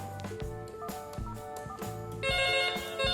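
Analog PABX extension telephone ringing in bursts of electronic trilling tones, clear and fairly close, with no one speaking over it.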